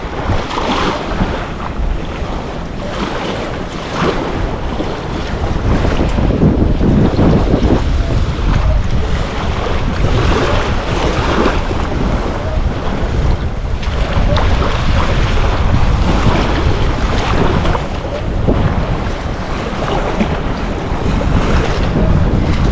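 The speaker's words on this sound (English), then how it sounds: "that wind is whipping, and so is the water" Strong wind buffets the microphone over crashing surf at a Lido Key beach at low tide, a loud continuous roar of gusts and waves with no voices.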